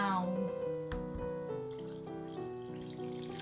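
Plain water poured into a well of flour and cracked egg while mixing dough for homemade pork and shrimp shumai wrappers. A steady, close trickle and splash runs for a few seconds beneath a voice or background sound.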